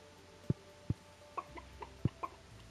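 Chickens on a Stardew Valley farm give a few short, distinct clucks at an uneven pace over a steady low game-music drone, close and moderately loud, with no talking.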